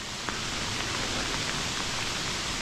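Hail falls through a forest during a storm, a dense, steady hiss of small pellets pattering on leaves and ground, even and continuous without a break.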